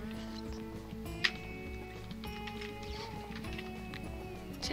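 Horse hooves clip-clop faintly and steadily in the video game Wild Horse Islands, sitting low beneath continuous game music.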